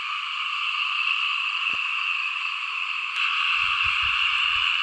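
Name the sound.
frogs croaking in rice field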